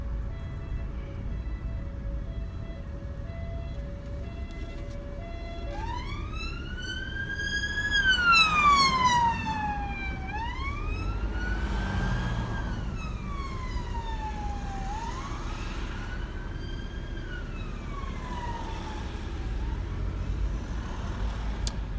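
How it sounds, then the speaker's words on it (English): Police car and ambulance sirens sweep past, rising and falling wails that swell loudest midway and fade gradually over a steady traffic rumble, with no talking. "That was police and ambulance"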